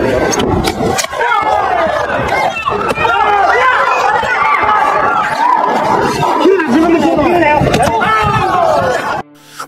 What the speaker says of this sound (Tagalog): Maririnig ang hiyawan ng mga taga-suporta ni Casimero na nag-aabang sa pagbagsak ni Akaho.